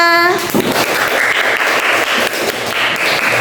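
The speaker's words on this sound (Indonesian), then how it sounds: "beri tepuk tangan dulu semuanya" A classroom group of students applauds in a coding and computational thinking lesson: dense, loud, continuous clapping with voices calling out over it, briefly preceded by a short sustained tone.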